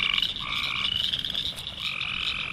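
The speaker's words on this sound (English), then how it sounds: "This is the chorus frog, and they call almost all summer long." Chorus frog calling in a steady, dense trilling chorus on a summer night, loud and continuous throughout with no voices over it.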